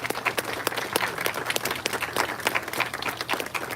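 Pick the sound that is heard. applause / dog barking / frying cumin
applause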